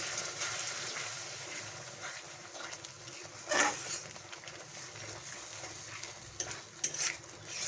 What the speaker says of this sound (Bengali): এই সময় দইটা দিয়ে নাড়তে হবে ভালো করে আর গ্যাসের ফ্লেমটাকে একদম লোতে রাখতে হবে